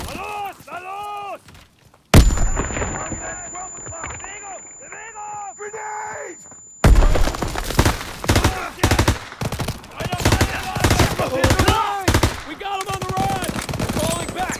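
Loud grenade blast and bursts of automatic gunfire in Call of Duty WW2 combat on Xbox One, a sudden heavy explosion followed by dense rapid shots, with voices calling out over the battle.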